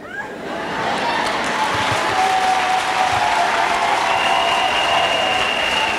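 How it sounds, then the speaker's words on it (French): An audience applauds at a church gathering, a steady wash of clapping that swells in the first second and then holds dense and loud, with faint cheering tones beneath it. "Let us clap"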